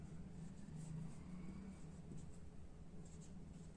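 A pen writes on paper, with short soft scratching strokes in an uneven rhythm under a faint, steady room hum.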